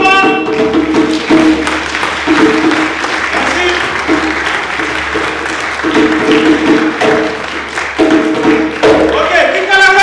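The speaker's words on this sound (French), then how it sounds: "On applaudit pour tout le monde." Applause from an audience after a storytelling performance, with steady clapping lasting throughout. A voice speaks briefly over the clapping.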